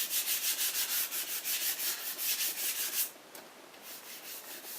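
Rapid rhythmic rubbing of sandpaper on a rough water-based shellac finish, about a dozen quick strokes, then a softer, smoother stretch of sanding; close up, no voices.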